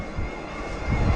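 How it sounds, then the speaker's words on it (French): Steady rushing headwind buffets the microphone of a mountain biker in the Gantrisch Nature Park, Fribourg, a broad roaring noise with low gusty thumps growing stronger toward the end. "Bien sûr, j'ai le vent contre moi."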